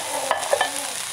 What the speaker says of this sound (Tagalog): Ngayon ay ilalagay na po natin yung ating tofu.